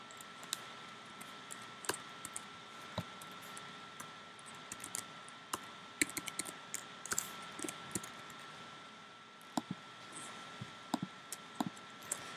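Faint clicking of typing on a computer keyboard, with irregular keystrokes in short bursts and pauses across a quiet room, no talking.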